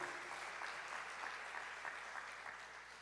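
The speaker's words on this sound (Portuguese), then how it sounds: "dê um aplauso ao Senhor nessa noite" A church congregation applauds at an evening service, a faint, distant wash of steady clapping that holds for several seconds.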